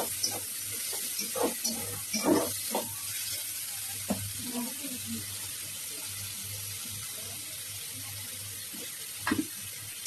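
Potato bhaji fries in a pan. A soft sizzle runs throughout, broken by several stirring scrapes and splashy clatters early on and another near the end.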